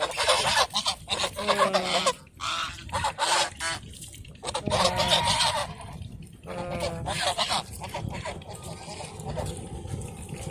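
Domestic geese honk loudly and repeatedly in bursts, close by outdoors, with other geese calling in between.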